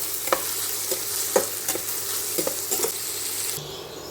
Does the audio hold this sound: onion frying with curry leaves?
yes